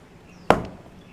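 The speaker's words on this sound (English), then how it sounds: "so that we don't hear the sound that's like a big thumping sound like this" A single sharp thump of a golf club striking turf cuts in once and fades quickly against faint background noise.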